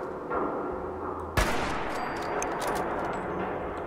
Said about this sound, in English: Wait, I have a hunting rifle.